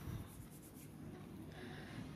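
Handwriting of an algebra equation during a seventh-grade maths lecture, a faint continuous scratching of strokes on a writing surface, quiet and steady with no talking.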